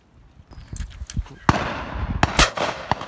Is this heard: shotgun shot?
yes